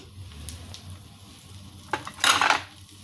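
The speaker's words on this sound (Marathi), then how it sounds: "मी बटर टाकले आता त्यामध्ये ज्या काळी मिरी होत्या अख्ख्या त्या मी घालतीये" Whole black peppercorns tipped into melted butter in a pan for creamy tomato soup give a brief rattling clatter and sizzle near the end, close and fairly loud after a quiet stretch.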